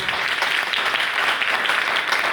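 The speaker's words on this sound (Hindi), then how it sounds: "उनके लिए जोरदार तालियों के साथ" Audience applause at an indoor event, honoring the program's host: a steady, dense wash of many hands clapping together, loud and even from start to finish with no voices over it.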